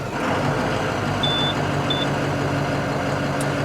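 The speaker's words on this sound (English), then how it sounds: "We'll start our engine." A Class B truck with air brakes running during a pre-trip inspection, its diesel engine a steady close rumble, with two short electronic beeps partway through.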